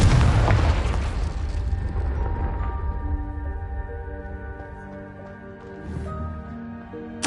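A Confringo explosive spell goes off in the video game Hogwarts Legacy: a loud, broad boom opens the moment, then fades into sustained tonal ringing and game music that slowly dies away.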